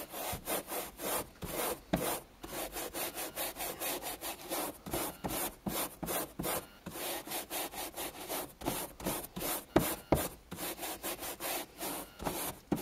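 Brush scrubbing a delicate car headliner with a cleaning product, rapid rhythmic back-and-forth bristle strokes in quick bursts, close and steady, with no voices.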